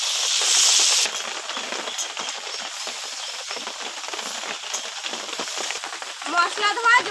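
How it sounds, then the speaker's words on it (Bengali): Eggplant and mixed vegetables sauté in a hot pan with a steady close sizzle and hiss, a brief louder burst at the start and scattered crackles throughout. "একটু হালকা করে কষিয়ে নেব যাতে সবজির থেকে কাঁচা গন্ধটা চলে যায়"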